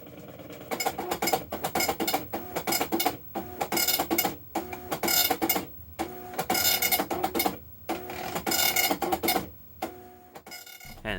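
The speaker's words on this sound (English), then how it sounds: "we are now printing a matrix of dots" An old-school dot-matrix printer runs off a Christmas banner, its print head rasping across the page in loud, bursty passes with short pauses between lines, a steady mechanical buzz carrying through to the end.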